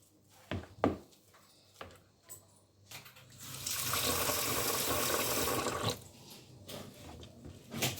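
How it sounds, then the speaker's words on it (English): Water poured into a fufu mixture in a home kitchen, a steady splashing pour lasting about two seconds, preceded and followed by light knocks and clinks of a bowl and utensils. "So this one I'm going to be adding water."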